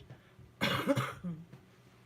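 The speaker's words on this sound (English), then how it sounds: "I do apologize for the coughing." A single short burst of coughing from a person getting over a bad cold, fairly quiet and close, followed by a faint throat sound.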